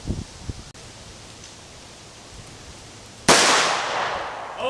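A single sharp, loud gunshot from a TISAS M1911A1 pistol firing ball ammunition cracks out near the end after several seconds of quiet outdoor ambience, its report decaying over the final second.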